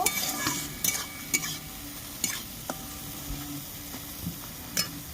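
Crab with poppy-seed paste is stir-fried in a pan for a spicy crab oil curry with eggs: repeated scraping spatula strokes over a soft, steady sizzle, close and fairly quiet, with no voices.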